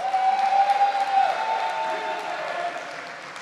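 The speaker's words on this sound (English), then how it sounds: "if we can give him a round of applause" An audience at a community center reopening applauds an administrative coordinator, a brief steady round of clapping that tapers off, with a faint tonal hum beneath it.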